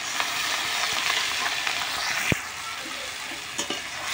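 Tomato and onion hit a hot pan with ginger-garlic paste, giving a loud continuous sizzle and frying hiss broken by a few sharp scrapes and clicks of stirring, with no voices.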